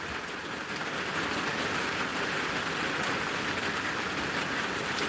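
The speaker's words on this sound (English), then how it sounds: "it started raining here about a half hour ago" Steady rain falls outdoors, a continuous broadband hiss of drops on surfaces, even and moderately faint with no talk.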